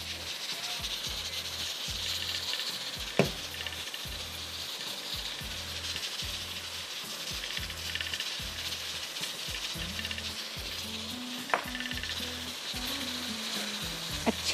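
Green onion, coriander and garam masala frying in a lightly oiled pan, a soft continuous sizzle with scattered stirring scrapes and a few sharp clicks of the utensil against the pan.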